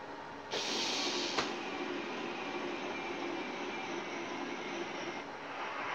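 Wheel of Fortune plug-and-play TV video game wheel spinning, a steady broadband whirring rush that starts abruptly and holds at even loudness for several seconds, with no talk over it.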